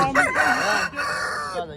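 Several roosters crow loudly and close together, overlapping calls filling the space with a busy farmyard clamor.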